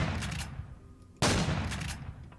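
Gunfire in the space survival game Empyrion: Galactic Survival while assaulting an abandoned factory, a dense burst of loud shots, then a sharp second volley that starts abruptly and rings on, close and harsh with no talk.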